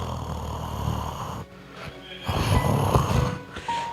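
A preacher imitates a man snoring in his sleep, making loud rasping, wheezing snore breaths with a snort, close and prominent, with no spoken words over it.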